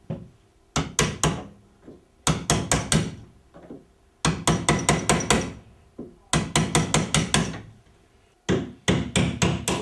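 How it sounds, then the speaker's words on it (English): Hammer blows drive a chisel to notch grooves in wooden Shaker crown molding, struck in loud, close bursts of four to six quick raps separated by short pauses, with no talking. "Next, we'll take the chisel and we'll make our grooves."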